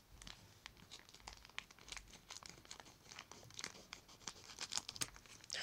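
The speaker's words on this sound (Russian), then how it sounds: "Ну что ж, давайте откроем посылочку." Crinkling plastic and paper packaging being torn open on a parcel of figurines, with steady close crackles and sharp tearing bursts running throughout, no talking.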